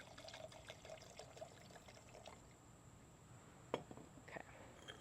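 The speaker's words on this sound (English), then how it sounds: "let's go ahead and pour this bad boy up." Red wine pours from a bottle into a glass, a faint, soft trickle and splash lasting a few seconds with a small clink near the end, heard quietly without talk.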